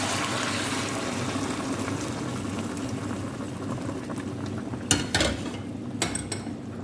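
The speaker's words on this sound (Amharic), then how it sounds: "ውሃ እዚህ ጋር የፈላ ውሃ አለኝ፣ ጨምርበታለሁ።" A cooking pot of boiling water bubbles steadily at a moderate level, with a couple of sharper splashes near the end as more water goes in.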